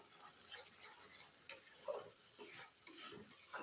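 A masala of cashew nuts and poppy seed paste, with a pinch of dried fenugreek leaves, fries faintly in a pan while a spatula scrapes and stirs it in soft, irregular strokes.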